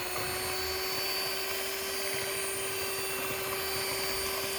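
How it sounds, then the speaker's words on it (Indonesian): An electric mixer beats pandan steamed cake batter with black glutinous rice, a steady close whirring hum with a constant motor tone and no talk. "Ini mixernya kita naikkan secara bertahap dari kecepatan yang paling rendah hingga kecepatan yang paling tinggi."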